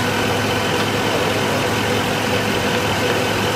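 Mercedes S500 4MATIC engine idling in a workshop while its 7G-TRONIC gearbox is serviced, a loud, steady, close low rumble with an even hum and no talk over it.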